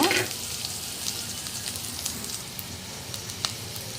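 Two finely chopped onions frying in a pan for a greens sambar (soppina bassaru), giving a steady, close crackling sizzle that holds at an even level throughout, with no talking.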